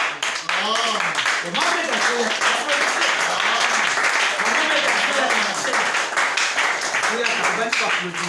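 A church congregation applauds steadily and loudly throughout, dense clapping mixed with voices and a speaker talking over it.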